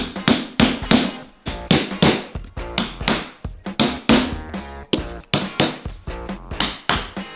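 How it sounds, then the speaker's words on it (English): A hammer strikes a metal punch at grid intersections marked on a workpiece, delivering sharp, ringing blows in quick pairs and short runs, close and loud, with brief pauses between groups. "we're going to take our hammer and our punch and punch right here in our intersections"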